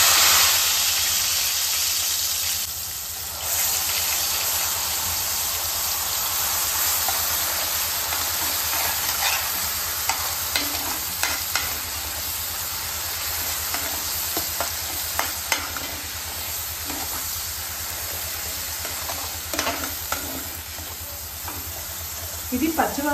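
Paste made from four medium onions fries in hot oil for dum aloo, a steady sizzle and hiss with scattered scraping clicks from stirring throughout.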